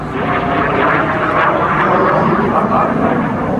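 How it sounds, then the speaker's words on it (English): An Aero L-29 Delfin jet trainer flies past at an airshow, its steady loud roaring engine drone filling the whole stretch without a break. "this was a high-performance training airplane."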